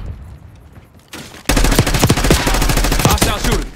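Loud, close automatic gunfire in Black Ops 6 multiplayer breaks out after a quieter lead-in, rapid shots rattling steadily for the rest of the moment.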